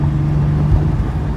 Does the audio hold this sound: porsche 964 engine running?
yes